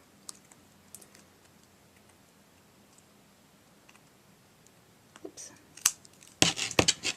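Scissors trimming a paper turkey beak for a punch art craft, a few quiet snips after near-silence, then a louder cluster of close cutting and rustling at the end.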